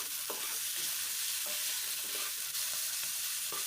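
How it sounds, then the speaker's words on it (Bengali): Salted cabbage and winter vegetables frying in a wok for chow mein, a soft continuous sizzle with a few scrapes and knocks of stirring, fairly quiet and without speech. "নুনটা দেওয়ার পর আবার একটু নাড়াচাড়া করে নিচ্ছি"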